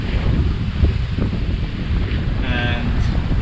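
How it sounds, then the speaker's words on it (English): Strong wind roars steadily across the microphone on a sailboat heading down toward the Florida Keys, with water and hull noise underneath and a brief faint tonal whine partway through. "The wind is just perfect."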